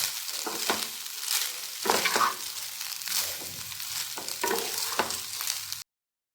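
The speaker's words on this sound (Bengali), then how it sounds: "আর সব কিছুকে আমি ভালো মতন ভেজে নেব।" Winter vegetable fried rice sizzles in a pan as a spatula stirs and scrapes it, the close, steady frying broken by a few sharper clatters before cutting off abruptly.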